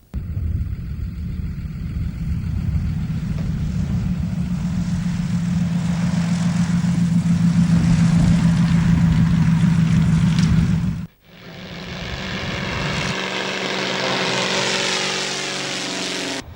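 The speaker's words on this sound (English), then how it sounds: "The Fletcher is up and down every few minutes" A Fletcher topdressing aircraft spreading super and lime over steep farmland, a loud propeller drone passing close overhead, then cutting off abruptly and giving way to a different fainter whine that rises again.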